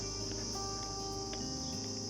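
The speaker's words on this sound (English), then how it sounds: "Such a loud sound of crickets everywhere." Dense, steady cricket chirping fills the air in scorching heat in Muscat, Oman, loud and continuous, with a constant high-pitched trill and no voices.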